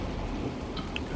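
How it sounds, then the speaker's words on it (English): Dense, steady patter of rain during a leaf cleanup drive, heard continuously as a close broadband hiss with a low rumbling undertone, no pauses across the short stretch. "we're just driving out of the rain"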